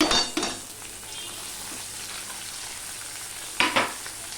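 Grated onion, garlic and green chillies sizzle steadily in a pan, with a couple of louder bursts and clinks as the ingredients go in near the start and again toward the end.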